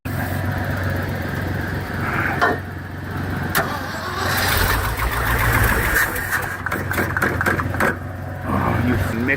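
An old Ford F-600 truck engine is cold started at -22F, cranking and sputtering with uneven bursts and revs up close, while people talk over it.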